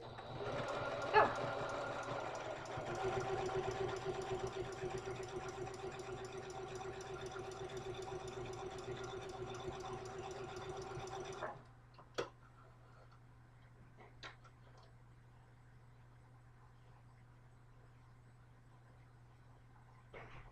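A sewing machine runs a zigzag stitch in a continuous steady hum with a fine ticking rhythm for about eleven seconds, then stops, leaving quiet room tone with a few faint clicks.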